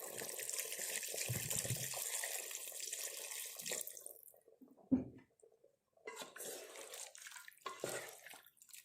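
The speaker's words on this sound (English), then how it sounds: "You can add water" Water poured into a pot of Mangalore dhaba-style chicken curry, a steady close splashing pour for several seconds that stops, followed by a thud and a few lighter clatters.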